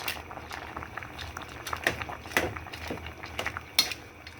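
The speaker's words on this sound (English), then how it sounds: "So I'm going to dump the pasta inside this pot here. Give it a quick stir." Pasta bubbles in a pot of water just after a stir, with soft gentle popping and patter near the microphone and a few faint clinks, with no talking.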